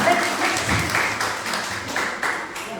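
Brief applause from an audience at an Indonesian seminar, moderately loud clapping with an uneven, pulsing texture that fills the short moment, while a voice carries on faintly beneath it.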